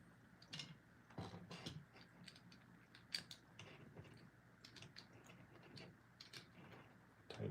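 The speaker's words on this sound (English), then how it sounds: "Tighten it down." A nut is tightened on an RC drift car in several short, quiet bursts of ratcheting clicks and metallic ticks, with small pauses between turns, close up and faint.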